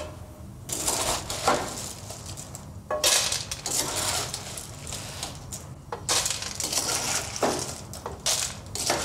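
Clattering opened cockle shells and metal scraping in a saucepan, repeated bursts of rattling and clinking as they are scooped out, close up.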